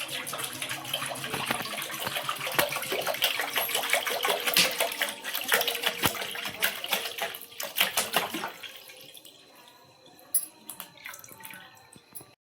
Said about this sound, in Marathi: तर आता आपण हा कोवळा चीक ओतून घेणार आहे।